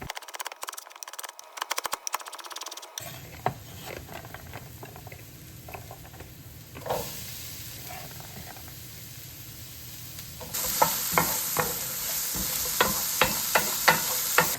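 Carrot discs cook in a pan with a soft, continuous sizzle and bubbling. Scattered light crackles and taps grow busier and louder toward the end.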